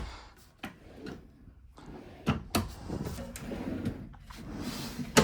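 Several sharp clacks and sliding thuds as drawers in a 2026 Brinkley Model I 294 RV are pulled open and pushed shut, irregular and close, with faint rustling between.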